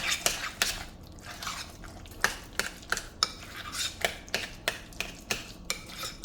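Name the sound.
stirring sauce into oven-baked barbecue chicken wings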